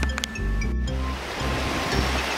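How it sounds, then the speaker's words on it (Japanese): Clear river flowing below a campsite at Sainokuni Camp Village in Saitama, a steady broadband rush of water with a faint clink near the start, continuous and fairly close. "キャンプ場の下の方にですね、川が流れてまして、水がかなりきれいですね。"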